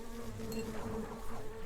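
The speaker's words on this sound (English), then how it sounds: "there's a lot of bees, and this is really fucking concerning" A swarm of bees buzzes steadily in the video game Secrets of Grindea, a dense, continuous insect drone with layered tones close up and no voices.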